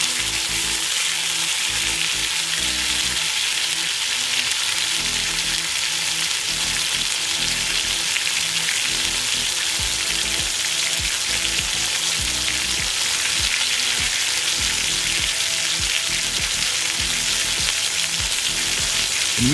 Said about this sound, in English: Now that the pan is nice and hot, I'm gonna go ahead and add that milk to it.